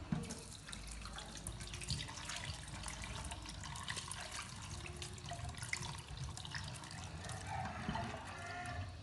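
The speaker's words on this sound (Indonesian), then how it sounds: "setelah perendaman selesai selama 2 jam, kita akan meniriskan airnya" Soaking water drains off black glutinous rice in a steady, close splashing pour with light trickles and gurgles running throughout.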